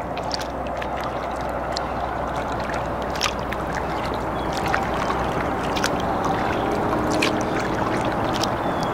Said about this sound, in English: Look at that, we're kayaking